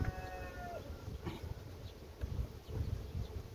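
Honeybees buzz faintly around a stationary production beehive with a side hive box, a soft, continuous hum with occasional passing insects and no voices.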